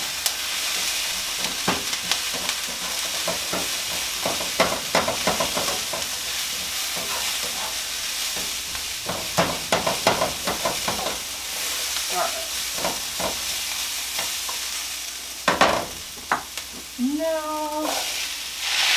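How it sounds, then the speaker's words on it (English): Seasoning is stirred into peas, corn and other vegetables sizzling in a hot pan for a southwestern spaghetti squash bowl, with a steady frying hiss under repeated scraping strokes, close up, and a brief faint voice near the end. "I want to mix the seasoning in with these vegetables first."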